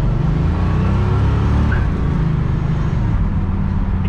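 A 1969 Oldsmobile 442 convertible rumbles loudly and steadily up close as it pulls away, its deep engine drone holding low and constant throughout.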